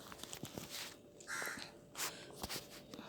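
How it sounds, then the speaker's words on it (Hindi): A crow caws in short repeated bursts, fairly faint and distant against a quiet background with no one talking. "ये अच्छा कौवा क्यों इतना कौं कौं कर रहा है?"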